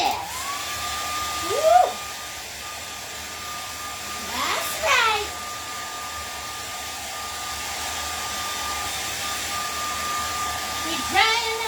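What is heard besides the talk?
hair dryer drying a painting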